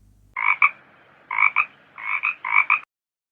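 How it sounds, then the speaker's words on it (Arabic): Four close pairs of loud, raspy frog croaks, each double call clear and alone with no talking or background noise. "frog."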